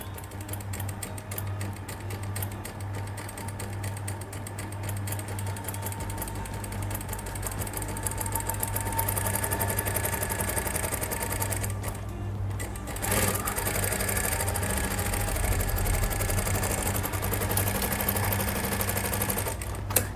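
A sewing machine stitching an Afghani salwar runs continuously up close, a fast even mechanical whirr with rapid needle clatter that briefly pauses and then resumes slightly louder, with no talking.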